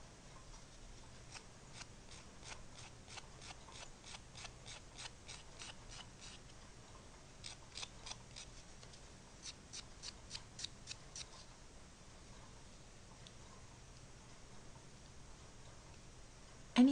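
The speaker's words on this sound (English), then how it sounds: "any major excess pieces too that you see, I like to trim with the scissors" Small scissors snip away excess Jamberry nail wrap around a fingernail, a run of quick, sharp clicks in three bursts, close and fairly quiet, with no voice.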